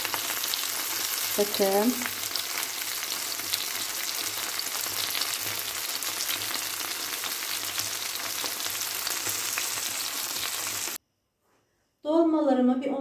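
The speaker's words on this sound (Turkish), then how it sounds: "Dakika tavamda çevirerek kızarttım diyeyim, pişirdim diyeyim." Stuffed peppers (dolma) fry steadily in a pan, a continuous close sizzle that runs loud for most of the time, with someone speaking briefly over it and again after a short silent gap.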